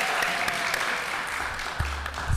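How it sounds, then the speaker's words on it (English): Scattered applause from a small audience at a climate and economic justice panel discussion, a steady wash of clapping across the clip with some low rumble near the end. "let's see if the third panelist also gets an applause"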